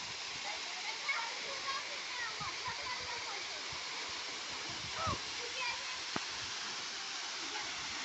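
Continuous roaring hiss of a large waterfall near Kathgodam, Haldwani, fills the whole clip, with faint voices and brief splashes beneath it.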